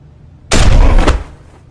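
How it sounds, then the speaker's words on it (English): A single loud, close gunshot in The Walking Dead Telltale Season 2 video game, a sharp blast with a short rumbling tail and a second crack just after. "Shoot him. Just shoot him."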